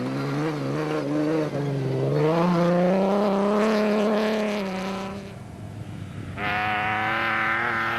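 A Nissan Navara rally truck races past at a desert rally event, its engine revving hard and climbing in pitch before dropping away, then a second burst of engine roar with gravel and tyre noise rises near the end.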